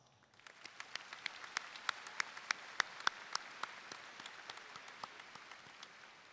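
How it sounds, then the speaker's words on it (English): Applause from high school graduates at an outdoor-style graduation ceremony, fairly faint and distant, a scattered patter with individual sharp claps standing out, rising in the first second and slowly tapering toward the end. "So I want you to give yourselves a round of applause."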